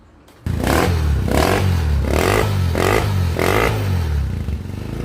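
A motorcycle fitted with a chicken pipe exhaust is revved hard about five times in quick succession. Each blip rises to a loud, raspy roar and falls back to a rumbling idle, recorded close and with no talking.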